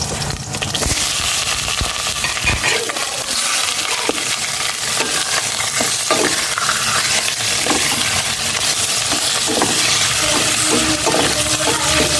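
Pork sautéing in a hot pan for adobo, a loud, continuous sizzle with intermittent scraping and stirring knocks, close and steady throughout.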